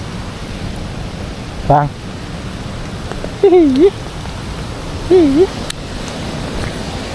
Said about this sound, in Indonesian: Hujannya semakin deras guys.